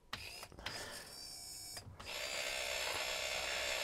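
A steady electric window motor whine on a Series 3 Jaguar XJ6 runs for several seconds, briefly pausing and then resuming louder and brighter.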